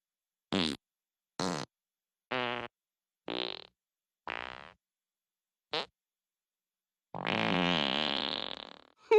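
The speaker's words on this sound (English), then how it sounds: "Would you stop farting, please?" A cartoon dog in Family Guy lets out a series of farts, five short bursts in quick succession, then a brief one, then a long drawn-out final fart, loud and isolated against silence, with a single spoken word.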